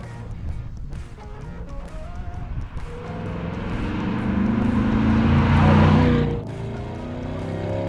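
C8 Corvette 3LT with Z51 package accelerating hard through third gear, a loud engine roar rising steadily in pitch and volume for several seconds before cutting off sharply, then settling into a lower rumble.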